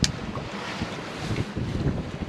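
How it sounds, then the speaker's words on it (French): Steady wind noise buffets a sailboat crossing the Gulf of Lion in a moderate swell, a continuous rushing roar against the microphone with faint water movement beneath, no voices. "le vent a baissé"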